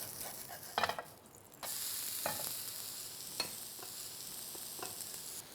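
Uttapam frying in oil on a hot pan after being flipped, a steady close sizzle with a few soft scraping and tapping touches from a spatula.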